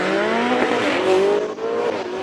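A supercharged V8 Ford Mustang races up a Cape Town hill climb. It makes a loud, close, sustained engine roar with a rising and falling pitch and a slight tire squeal, with no talking.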